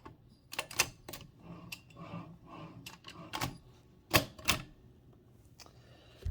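A Mignon typewriter carriage slid back into place while the spacebar is held down, producing a run of sharp, close mechanical clicks and clacks at irregular intervals, with two louder knocks near the end.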